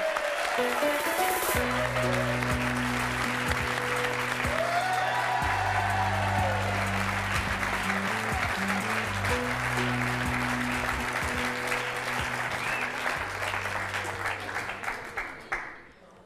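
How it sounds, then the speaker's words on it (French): Loud, sustained applause from an audience fills the space, dense and steady, with music playing underneath before the clapping fades out at the end. "nous allons accueillir tout d'abord ces 3 jeunes gens que je vous demande d'applaudir"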